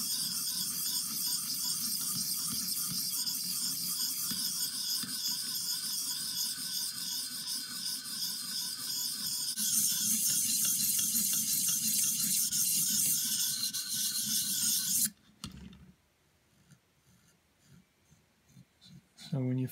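A blade edge is drawn across a sharpening stone to remove the burr, a repeated soft scraping rasp with a steady rhythm heard beneath someone talking, ending with a short clunk and near silence.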